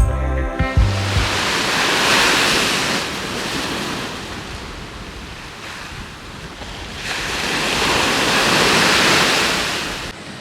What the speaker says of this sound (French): on a le bruit des petites vagues, les petits bateaux of course